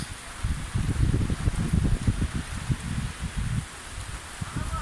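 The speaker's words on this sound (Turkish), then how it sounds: "Yağmurun sesini de duyun şöyle" Steady rain patters and hisses outdoors over black fig saplings in a Bursa village, with soft irregular thumps of drops and a gusty rustle, continuous and fairly close.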